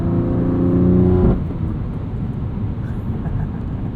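A 2021 BMW M2 Competition sports car engine roars loudly with a deep, steady exhaust note, then drops to a lower rumble as the revs settle.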